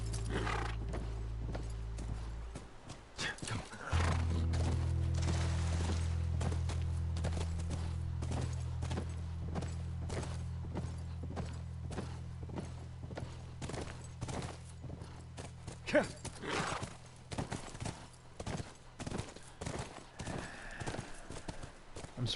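Horse hooves clip-clop at a steady walking rhythm while riding in the video game The Last of Us, continuing throughout over a low droning game soundtrack, with occasional louder thumps.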